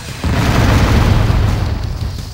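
A reactor blows up in Descent 2 with a loud, deep boom that swells suddenly and rumbles on for a couple of seconds before easing slightly. No voices are heard.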